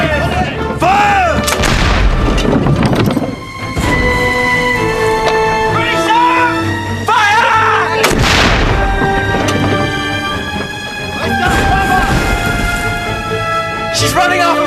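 Naval cannons aboard an old sailing warship fire in heavy, loud booms across the span, with shouted orders and crew voices, rumbling echoes and battle noise filling the scene between the blasts.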